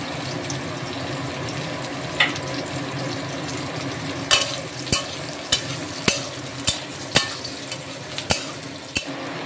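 Crushed garlic and chilies sizzle in a hot pan of oil for chili chicken, a steady frying hiss broken by a run of sharp clacks as a utensil stirs against the pan.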